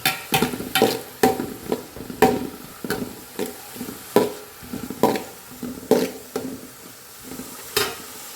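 Cabbage being stir-fried with scrambled egg in a pan for chicken fried rice, steady sizzling broken by repeated sharp spatula scrapes and clinks against the pan in an uneven rhythm, close and fairly loud, with no talking.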